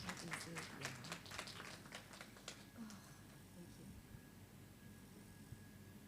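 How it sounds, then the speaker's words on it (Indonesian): Audience applause at a school graduation ceremony, a dense patter of clapping that starts fairly loud and fades over several seconds, with a faint crowd murmur underneath. "Mari kita berikan tepuk tangan untuk Ibu Rahma."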